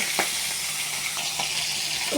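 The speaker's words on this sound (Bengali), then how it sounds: "জিরাটা তুলে রেখে আমি ওই তেলেই মাছের মাথাটা ভেজে নেব" A fish head sizzles in oil that cumin seeds were just fried in, a steady moderate crackle with a few sharper spits and a faint clink.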